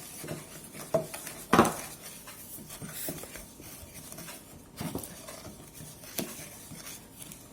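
Cornstarch and salt are stirred together in a bowl for modelling dough, giving soft scraping and light clinking from a spoon against the bowl, faint and intermittent with a few sharper knocks.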